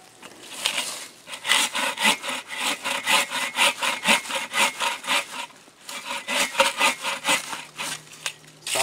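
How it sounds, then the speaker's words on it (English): Steady back-and-forth sawing through wood with an AGAWA Boreal 24 folding saw, close up, with rhythmic rasping strokes that pause briefly near the middle before resuming. "A little bit more sawing."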